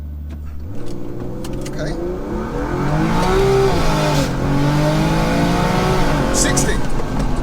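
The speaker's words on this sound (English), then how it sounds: "So your first attempt, just brake boosting it." A 700 hp single-turbo BMW wagon launches hard from a brake boost, its engine droning loud and close and then rising steadily in pitch as it pulls away, with a brief spoken word near the start.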